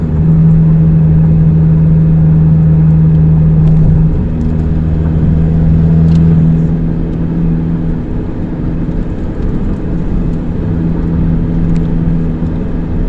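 A truck loaded with three to four tons of pineapples labors uphill in third gear, its engine droning loud and steady with a sustained low hum, slight pitch shifts and road rumble throughout.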